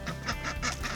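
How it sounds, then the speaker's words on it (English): Several farm ducks quack in a quick, overlapping run of calls, loud and close, with no talking over them. "the ducks are loving it"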